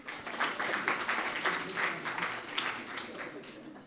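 Scattered, modest applause from a sparse audience at an eloquence contest final, uneven claps rising and falling at a moderate distance, fairly quiet overall.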